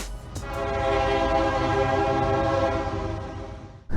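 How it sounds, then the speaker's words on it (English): A Washington Metro train rolls along with a steady rumble and a high, sustained whine, heard from on board, the sound easing off near the end. "I'm riding on the Washington Metro right now"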